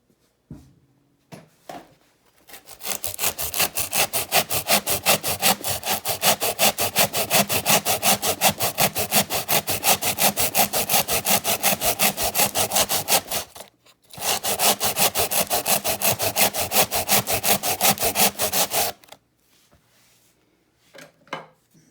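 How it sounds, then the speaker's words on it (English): A hand rasp files the wood of a Freewing Cougar model jet during a turbine conversion, with fast, even, loud rasping strokes running for about ten seconds, a brief pause, then several more seconds of filing. "I take this rasp here, and we're going to hold it at an angle right there"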